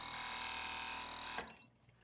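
Sewing machine stitching a seam on a long dress, a quiet steady mechanical whir running for over a second before it stops abruptly, leaving faint soft handling noise; no talking.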